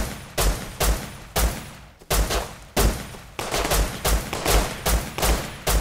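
Steady gunfire in the survival game Rust, about a dozen evenly spaced loud shots at a regular rhythm, each cracking sharply over a low rumble, with no talking.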